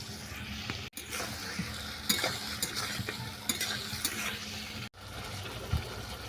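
Vegetables for a rohu fish curry fry in a pan with green chili, salt and grated tomato, giving a steady close sizzle with stirring scrapes; two brief sharp cuts break the sound, and no one speaks.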